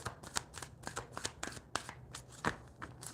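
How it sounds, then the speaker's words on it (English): A tarot deck being shuffled in a live reading, giving soft, rapid card flicks and riffles in an uneven rhythm, close and fairly quiet with no talking over it. "give it a shuffle"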